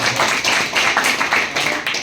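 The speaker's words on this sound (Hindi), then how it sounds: "एक बार जोरदार ताली के लिए" Loud audience clapping for a guest at a college gathering, a dense steady burst of many hands sustained throughout with no talk over it.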